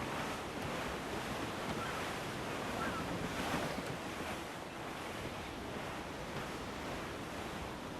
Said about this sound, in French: sentir le vent dans mes cheveux et le parfum de l'océan dans mes narines